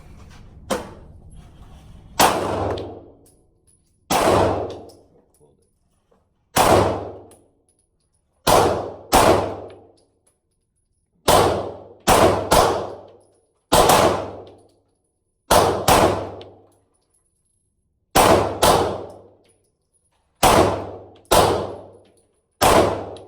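A Stoeger STR9 pistol fires at a steel target, about fifteen sharp shots, each followed by a ringing metallic clang, spaced irregularly in pairs and singles, loud and close with silence between.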